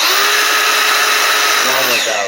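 An angle grinder, compared against Makita and DeWALT models, whines loudly at high pitch, then winds down after switch-off with a falling tone over the final half second, close and unbroken.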